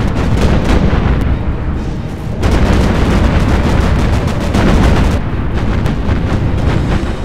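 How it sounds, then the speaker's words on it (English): Dive and torpedo bombers stage an airstrike in a Battlestations Pacific naval battle off Cape Engano, with loud relentless gunfire, anti-aircraft bursts and explosions forming a thick continuous barrage. "Airstrike incoming, sir. Dive bomber and torpedo bomber squadrons."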